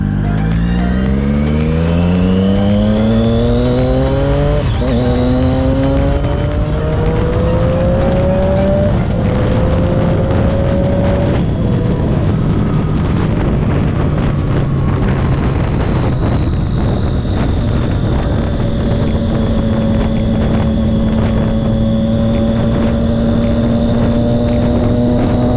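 A Triumph Daytona 675 superbike is ridden hard. The close engine snarls through rising and falling revs and gear changes, with steady wind rush roaring over the microphone throughout and no talk.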